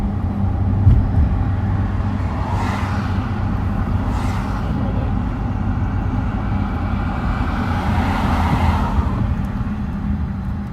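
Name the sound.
car passing on the street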